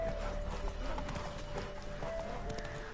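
A horse gallops in the video game The Witcher 3: Wild Hunt, giving a close, steady rhythmic clip-clop of hooves over a low background rumble for about three seconds.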